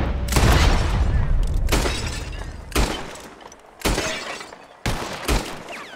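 Gunshots in Red Dead Redemption 2 break glass bottles: four sharp separate cracks, each followed by ringing shattering glass, spaced about a second apart with quieter decay between.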